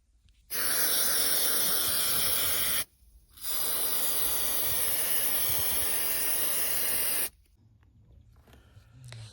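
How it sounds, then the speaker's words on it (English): Two long bursts of adhesive aerosol spray hiss loudly onto fabric and a fiberglass backing on a boat, separated by a short pause, followed by quieter handling noise. "using the adhesive spray, you actually spray both sides"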